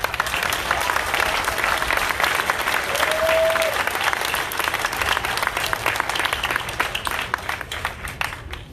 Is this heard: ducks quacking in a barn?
no